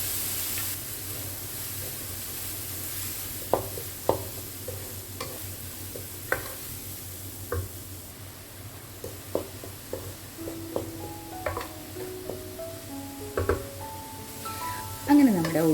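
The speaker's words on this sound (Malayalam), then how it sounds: "ഇനി ഇതിലേക്ക് നമുക്ക് ഒരു 3 വലിയ ഉള്ളി ചെറുതായി അരിഞ്ഞത് ഇട്ടിട്ട് നമുക്കൊന്ന്" Three large finely chopped onions soften in hot oil in a pan for egg dosa puffs, a steady sizzle broken by scattered stirring clinks and scrapes of a spoon against the pan, fairly quiet and close.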